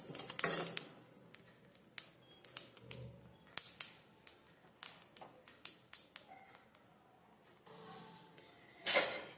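Sesame seeds crackle and pop as they roast in an iron pan: sparse, sharp taps and little bursts at irregular intervals, close and fairly quiet, with a louder sizzling rush near the end.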